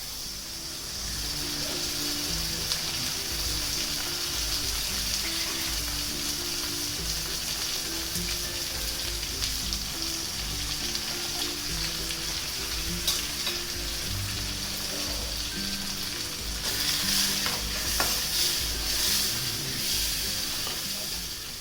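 A sweet corn kheer mixture is stirred in a hot kadhai, giving a steady close sizzle and hiss with soft scraping strokes throughout, and no one talks.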